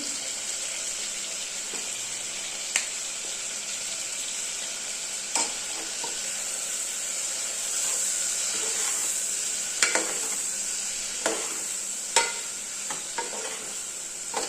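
Turmeric powder and a little asafoetida sauté in a pan for rasam, giving a steady soft sizzle with scattered spoon clicks and scrapes against the pan.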